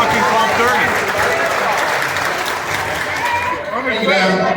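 Audience applause for the new executive chef at a Kings Island Coasterstock guest speaker event, dense clapping from a crowd mixed with cheers and voices, loud and continuous throughout.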